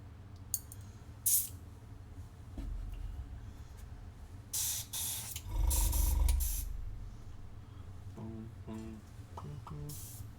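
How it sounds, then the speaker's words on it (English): An airbrush sprays paint in several short hissing bursts, with one longer, louder burst in the middle, against a low background rumble and scattered faint tones. "let's just do a teensy little bit of airbrushing"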